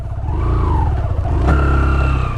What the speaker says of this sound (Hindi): थोड़ा आगे ले जाएं बाइक को।